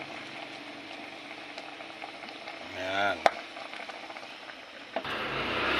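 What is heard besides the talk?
water boiling in cooking pot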